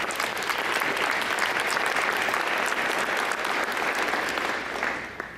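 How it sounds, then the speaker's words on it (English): Dense, continuous applause from the crowd at a United Way of Etowah County annual meeting, steady clapping at moderate level that tapers slightly in the final second. "need a big round of applause for that"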